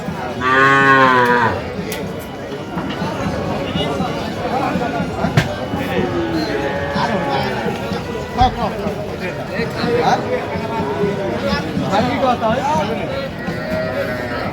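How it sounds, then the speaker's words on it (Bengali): A Sahiwal bull calf moos loudly at a busy cattle market in Brahmanbaria, with a strong opening call followed by further lowing amid constant crowd chatter and nearby talking. "ষাড় বাচ্চা"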